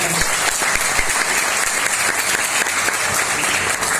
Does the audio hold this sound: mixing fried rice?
no